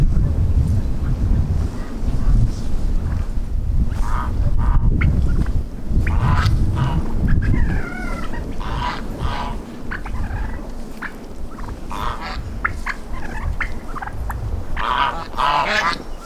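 Chickens call repeatedly outdoors over steady wind rumble, clucks and squawks scattered throughout at moderate distance.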